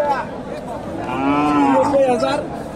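A cow moos loudly and close by at a busy rural cattle market in Dakumara, one long drawn-out call over a murmur of crowd chatter.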